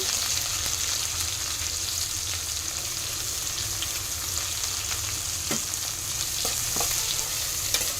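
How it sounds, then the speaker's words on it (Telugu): Onions and curry leaves fry in a pan for kanda gadda charu, a dense, steady sizzle up close with scattered light scrapes and clicks of stirring, no one speaking. "ఈ విధంగా ఈ విధంగా వేయించుకోండి టూ మినిట్స్ వేయించుకోవాలండి"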